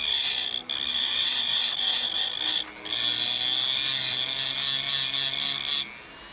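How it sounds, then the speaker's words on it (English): A knife blade is ground against a rough abrasive in steady continuous strokes, a bright rasping hiss broken by two short pauses, close and loud with no voices. "we're gonna try actually grinding"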